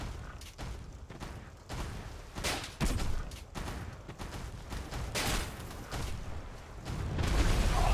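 Gunfire in a video game, a dense continuous barrage of shots and booms filling the whole stretch, loud and unbroken.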